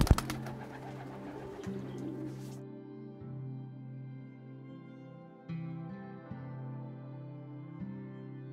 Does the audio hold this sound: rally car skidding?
no